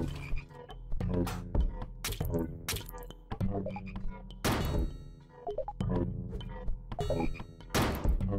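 Rhythmic croaking of frogs from the video game HOUSE, loud repeated calls in short bursts with game sound effects layered over them, no talking.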